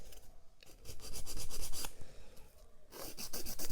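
Close, dry rasping of a file stroked back and forth across a short natural fingernail during nail preparation, in quick bursts with a brief pause midway and no talking.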